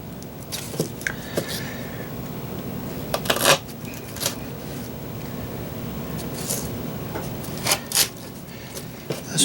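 Lemongrass stalks being trimmed for propagation, with crisp snips and rustles from cutting the fibrous stems, close and moderately loud, in a few separate bursts over low background noise.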